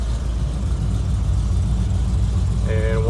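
Fuel-injected V8 in a Land Rover Defender 110 Safari soft top, running cold with steady low engine rumble throughout and a brief rising rev near the end from only light throttle.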